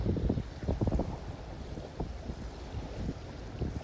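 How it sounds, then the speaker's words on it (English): Gusty wind buffets the microphone at a seaside beach on a cool day, a loud continuous rumble with bursts of low flapping, no voices present. "Now right now we have the wind blowing at us."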